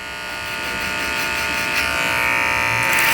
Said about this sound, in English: And you can start with a little bit of clipper over comb.